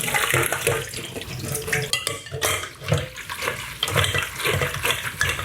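Water being pressed out of soaked dried seaweed by hand over a bowl, a close, busy run of splashing, trickling and dripping with wet squelches, fairly loud and continuous, with no talk.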